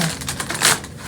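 A tarot card deck is shuffled by hand, giving a quick, dense riffle of papery flicks and snaps. The burst is loud and close, lasts about a second and peaks in the middle.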